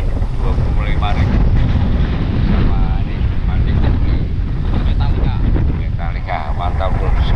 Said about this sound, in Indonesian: dengan angin yang begitu kencangnya ini